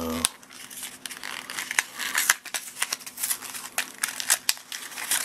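Crinkly tearing and crumpling of trading card packaging opened by hand without scissors, with repeated sharp rips and rustles close by, no talking.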